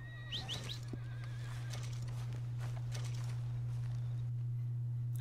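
A horse in Red Dead Redemption 2 gives a short whinny near the start, followed by a few hoof clops over a steady low hum from the game, with no talk.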